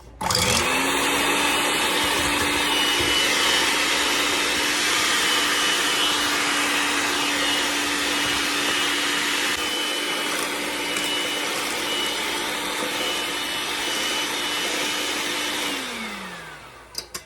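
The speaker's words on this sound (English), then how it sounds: "Now, we got to beat them up. Get them foamy-ish." Four eggs beaten until foamy with an electric mixer for lemon bars, a steady loud motor whine running almost continuously, then winding down at the end.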